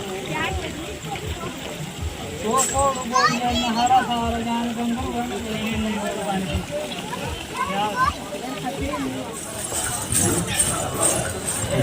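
Horse hooves clip-clop along the Vaishno Devi pilgrimage path in June, with splashing water and children's voices around them. Someone talks over the steady hoofbeats, and the crowd noise stays close and busy throughout.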